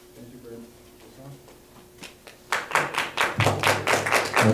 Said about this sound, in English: Thank you for that warm round of applause